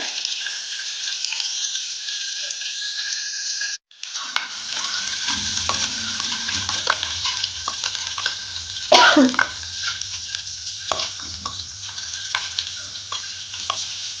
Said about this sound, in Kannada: ಅದನ್ನು ಕೂಡ ಹಾಕಿ ಚೆಂದ ಫ್ರೈ ಮಾಡ್ಕೊಳ್ತೀನಿ